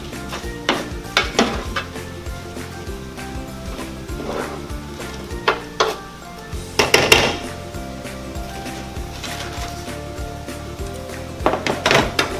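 Roasted butternut squash and potato pieces go into a cooking pot, heard as scattered clunks and scraping clatters of utensils against the pot, with a few louder knocks over a steady low kitchen background and no talk.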